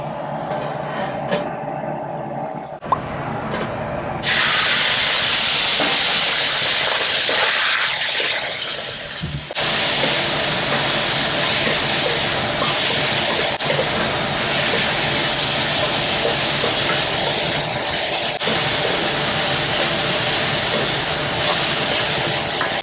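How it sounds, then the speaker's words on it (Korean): Squid stir-frying in cooking oil in a pan, a loud, continuous hissing sizzle that swells sharply after a few seconds and stays dense and close throughout, with brief shifts as the pieces are stirred. "제일 먼저 볶는 건 오징어예요."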